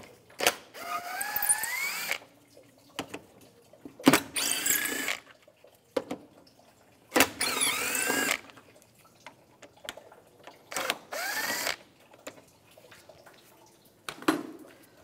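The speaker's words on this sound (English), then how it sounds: "you can take these screws out, use a T30 socket." Cover screws on a 2004-2010 BMW X3 engine being backed out with a T30 socket, several short bursts of clicking and ratcheting metal separated by quiet pauses, close and fairly loud with no talk.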